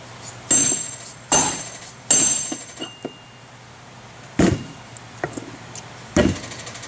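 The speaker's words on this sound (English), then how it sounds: "So got the pulley back up using a dead blow hammer." A dead blow hammer seats an AC compressor clutch pulley (Sanden SD7/SD5) onto the compressor nose: about five sharp, solid knocks at irregular intervals, with fainter clicks and taps between them, close and loud.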